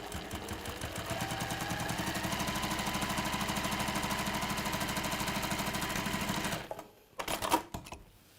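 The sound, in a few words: sewing machine sewing end of zip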